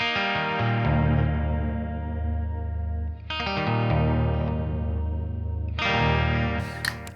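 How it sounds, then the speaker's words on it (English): An electric guitar on the neck single-coil pickup runs through a Sonicake Matribox II Pro preset with vibrato, compressor, delay and reverb, playing three sustained, shimmering chords that each ring out and decay before the next is struck. "starts off with a vibrato, a compressor, a delay and a reverb"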